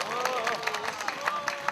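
A crowd applauds at a Gwangju peace rally for a Korean peninsula peace treaty, with rhythmic clapping bursts running under a speaking voice.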